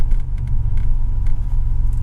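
A DeLorean sports car's engine rumbles steadily while the car is driving, a deep, continuous low drone with slight throttle variation and no voices over it.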